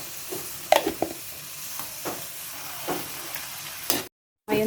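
Ground meat fries in a little oil in a pan, sizzling steadily while a utensil scrapes and stirs it in several distinct strokes, close by, with a brief break before the sizzling resumes.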